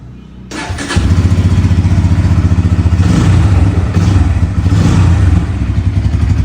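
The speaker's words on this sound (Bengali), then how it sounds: "ইঞ্জিনের সাউন্ডটা একটু মানে অ্যাগ্রেসিভ লাগতেছে আগে N160 থেকে" A Bajaj Pulsar N160 (USD version) motorcycle starts up close and loud, then idles and revs in a steady, rapidly pulsing engine note.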